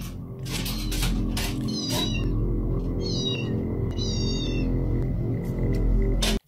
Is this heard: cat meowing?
yes